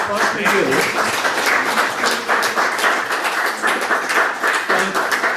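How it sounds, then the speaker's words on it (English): Audience applause closes a book talk hosted by the Publishing Triangle, a dense, steady wash of many hands clapping close and loud throughout, with no break. "So clap for you."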